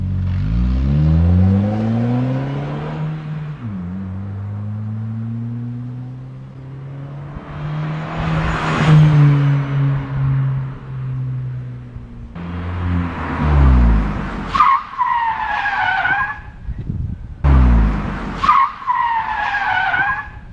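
A Chevrolet Vectra GT sedan is driven hard on unpaved ground, its engine revving and droning while the tires skid and squeal repeatedly, with loud, sharp bursts toward the end.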